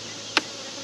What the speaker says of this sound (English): because this hive has a lot of bees.